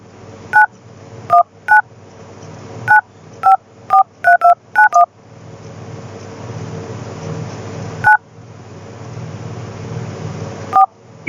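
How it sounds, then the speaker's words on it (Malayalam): Phone keypad DTMF tones as a number is dialed on a mobile dialer, a quick run of short, clear beeps in uneven rhythm, then a pause and two more isolated tones over a faint hum. "ഡയൽ ചെയ്തിട്ട് കോൾ വിളിക്കാറാണ് ചെയ്യാറ്"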